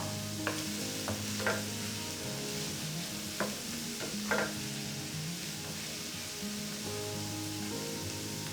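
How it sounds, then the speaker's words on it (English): Tourtière filling sautéing in a pan until soft, with a steady low sizzle and a few sharp scrapes and knocks of a spoon stirring against the pan; no voices. "We're going to saute this until it gets nice and soft, but we don't want it to brown."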